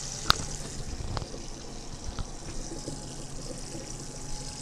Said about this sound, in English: we can turn the water off now since most of the boiling water has been strained out